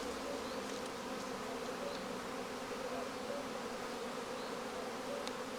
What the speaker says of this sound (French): il y a toujours quelques abeilles qui traînent